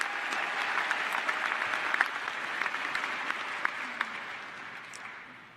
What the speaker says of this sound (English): So with a clap, let's please appreciate our faculty and staff gathered here tonight.